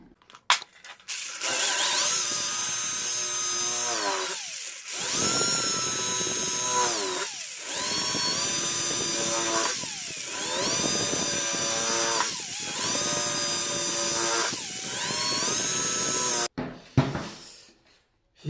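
A power drill fitted with a thicker bit bores out the holes in the rim of an RC toy truck tyre. The steady whining run repeats in several bursts of a few seconds each, close and loud, with short pauses between them.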